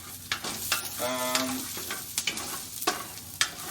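Onion frying in a pan in a plant-based Mexican cooking class, a close crackling sizzle broken by sharp scraping stirs and a short tonal squeak, with no talking.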